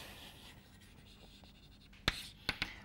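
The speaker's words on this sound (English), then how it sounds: "So so let me write this down." Chalk or marker writing on a board during a mathematics lecture, a faint scratchy stroke followed by a few sharp taps near the end over quiet room tone.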